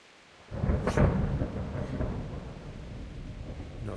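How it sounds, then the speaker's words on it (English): Thunder from a storm in the medieval game Kingdom Come: Deliverance cracks and rolls in loud after a quiet half-second, then fades into a steady rumble of rain. "Not afraid of thunderstorms,"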